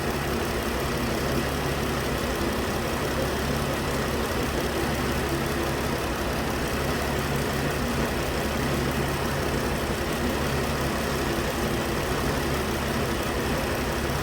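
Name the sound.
2013 Ram 3.6 V6 engine idling with a misfire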